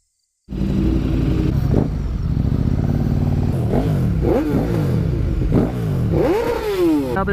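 A 2010 BMW S1000RR motorcycle with an Akrapovic exhaust starts up and idles loudly close by, then revs hard several times in rising and falling bursts.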